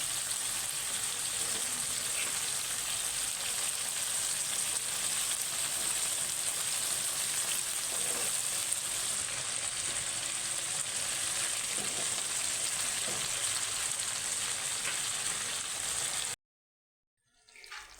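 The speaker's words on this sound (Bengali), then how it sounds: "এই যে আমি গরম জলটা বাটিতে ঢেলে নিয়েছিলাম, 2 হাতে করে গরম জলটা দিয়ে দিচ্ছি" Hot water poured into a pot of browned mutton for Bengali-style handi mutton. It makes a steady, loud sizzle and hiss that stays even for most of the time, then cuts off abruptly near the end.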